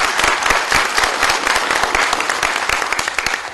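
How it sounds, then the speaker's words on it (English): Applause from a symposium audience at Syracuse University, with loud, sustained clapping and distinct individual claps standing out, tapering slightly near the end. "please join me in a round of applause for those who've put together this"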